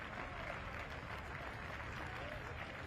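Football crowd at a women's Champions League qualifier between Arsenal and Slavia Prague applauds, a steady, distant clapping wash under faint stadium ambience.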